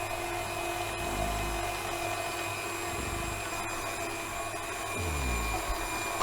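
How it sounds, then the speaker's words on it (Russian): A meat grinder with a coarse plate minces meat for Ossetian pies, its motor droning steadily with a whining tone that dips and shifts as the load changes, with no talking. "осетинцы, ну, опять же, где я видел, все проворачивают через мясорубку."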